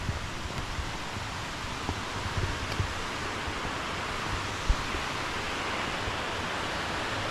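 A hidden Georgia waterfall runs over shallow water, giving a steady, even rushing hiss that holds unbroken throughout, with no voices.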